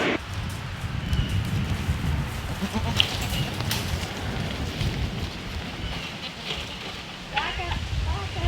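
Goats give several short bleats during morning feeding at a trough while the farmer pushes through them, the calls scattered over rustling, rain-like background noise and close trampling sounds, with a person speaking.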